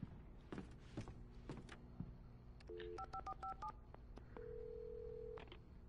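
Telephone keypad tones in the video game Alan Wake: a few soft clicks and handling noises, then a quick run of several dual-tone button beeps, followed by a long steady ringing tone, fairly quiet and unaccompanied by talk.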